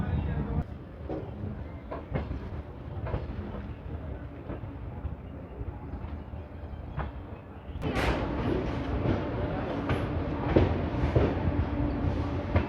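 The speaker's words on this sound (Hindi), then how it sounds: "इसका मतलब कि नरवाना जंक्शन पहुँचने वाली है अपनी ट्रेन" A Shri Ganganagar–Delhi Intercity express, train 12482, rumbles along the Kaithal line toward Narwana Junction, steady wheel and carriage noise heard from on board, growing louder and busier partway through.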